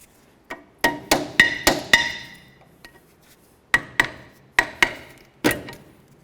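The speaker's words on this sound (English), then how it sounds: "Take a nice punch, chisel, whatever you might have, even a pry bar, and just get the pads out" Metal punch or chisel hammered against seized brake pads on a 2002-2007 GMC Envoy rear brake, sharp ringing clinks in a quick burst of five, a pause, then four more strikes, close and loud.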